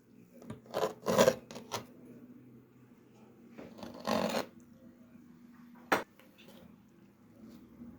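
A knife slices a piece of caramelized peach upside-down cake with a few rasping, sawing strokes, each in a short cluster, then a sharp tap near the end against a quiet background.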